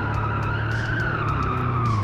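A Polish limousine in the game BeamNG.drive skids under hard handbrake, a continuous loud tire squeal sliding in pitch over a steady engine drone, close and uninterrupted.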